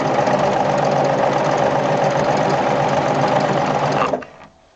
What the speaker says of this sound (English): what it looks like if we sew with our fabrics wrong sides together